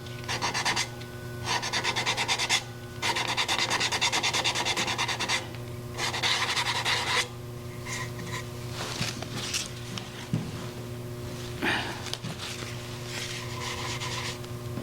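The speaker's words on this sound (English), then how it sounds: "Try and sand it with the grain" Sandpaper rubbing along the grain of a turned wooden mallet, a steady scratchy friction in repeated strokes with short pauses, over a constant low hum from the lathe workshop.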